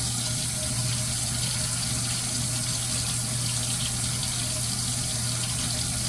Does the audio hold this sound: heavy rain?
no